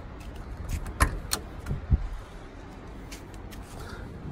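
Hood of a 1990s Fiat Uno Mille, a 1.0-litre economy car, being opened: a few sharp clicks and metallic clunks of the latch and hinges, close up, with no talking.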